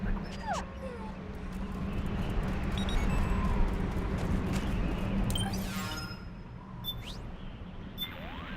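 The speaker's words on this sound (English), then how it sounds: "Hear that, Snake? Yeah. The wolf dogs." Wolf dogs whimper and yip in Metal Gear Solid 4, several short high whines over a low steady hum, with faint electronic pings near the end.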